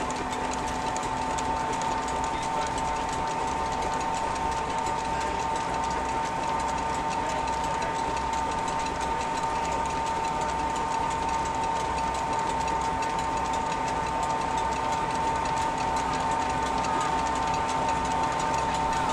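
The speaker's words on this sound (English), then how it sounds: "The engine has a complex set of pistons, valves and a governor to ensure that the power is delivered smoothly." Steady mechanical chugging with a constant hum and rapid rhythmic clatter, a steam engine with pistons, valves and a governor driving a threshing machine continuously without pause.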